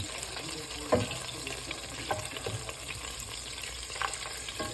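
Butter melts in a pan with a quiet, continuous sizzle, punctuated by a few soft taps and scrapes, heard up close with no one speaking.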